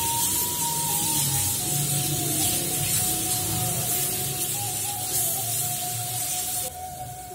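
Ground chili fries in a pan for Padang-style nasi goreng, giving a loud, steady, close sizzle and hiss throughout, with a faint tonal whine underneath and no voices.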